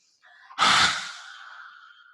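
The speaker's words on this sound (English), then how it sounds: "when you breathe out, you're going to stick your tongue out as much as you can to really stretch it right to the back." Lion's breath in yoga: one forceful, breathy exhale with the tongue stretched out, a sudden loud rasping burst that fades over about a second, preceded by a soft inhale.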